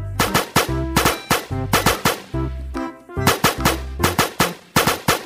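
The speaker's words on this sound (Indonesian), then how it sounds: "Kita duel pakai senjata" Rapid gunfire in a weapon duel in the mobile game Flying Hero Stickman, loud repeated bursts of shots in quick uneven clusters with short pauses, steady throughout with no talking.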